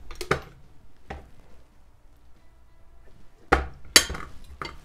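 A 1950s vintage ice crusher working coarse ice, with sharp clattering crunches and clinks in scattered bursts, quieter rattling in between.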